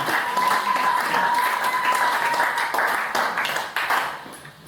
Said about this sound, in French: Nous devons toujours continuer à acclamer.